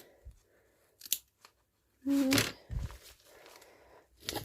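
Scissors snip through paper trimmed for a junk journal, with a few short cutting bursts near the mic and one louder cluster in the middle, alone without talk.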